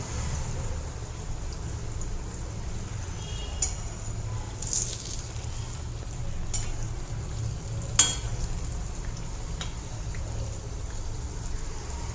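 Kajjaya sweets fry in hot oil with a continuous crackling sizzle, steady and close, broken by a few brief clinks and stirring sounds.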